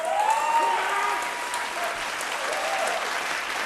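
An audience applauds singers after a vocal battle on a televised competition, loud and sustained clapping that fills the room, with a brief whoop or voice rising faintly early on.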